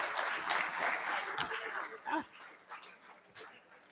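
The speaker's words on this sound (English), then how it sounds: "Can you guys give a round of applause for Jordan?" An audience at an Omaha real estate investors' meeting gives a guest speaker a round of applause: dense, steady clapping with a few sharp cheers that gradually thins out and fades over a few seconds.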